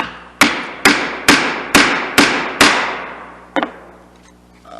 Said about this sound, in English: I prefer to do most of my chiseling and then switch to a super sharp set of chisels.